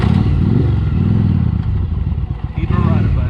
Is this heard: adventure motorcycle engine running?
yes